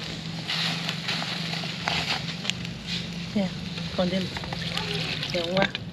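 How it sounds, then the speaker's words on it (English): Water poured into a cooking pot of okra for West African gumbo in Benin, a brief splashing pour heard beneath steady talking and the low hum of the cooking setup. "Adding some water, a little more salt."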